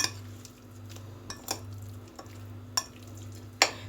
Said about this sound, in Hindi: फिर अब मैं प्याज फ्राई करने रखूँगी।